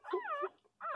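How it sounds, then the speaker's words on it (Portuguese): Newborn miniature pinscher puppies whimper to nurse, giving two thin, wavering high-pitched whines close by, the first long and sliding, the second brief after a short pause. "É os cachorrinhos, mano. Cachorrinho, querendo mamar."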